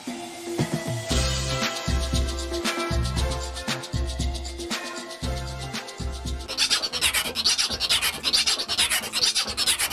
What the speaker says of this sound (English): Bahamian music has evolved over the years, but one of the more traditional sounds is rake and scrape.